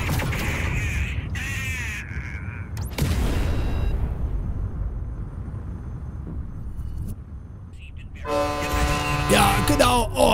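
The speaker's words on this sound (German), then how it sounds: "Das war ein Space Truck oder sowas oder ein Frachter, der hat ordentlich gehupt" A space truck freighter in a space sim video game sounds a long, loud honk, with layered horn tones near the end after a mix of game effects and engine rumble earlier on.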